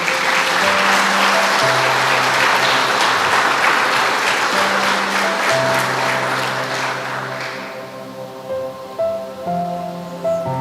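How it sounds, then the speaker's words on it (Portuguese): A church congregation applauds, loud dense clapping that fills the room alongside sustained organ or keyboard chords, then thins out and fades over the last few seconds, leaving the instrument. "Você pode aplaudir ao Senhor?"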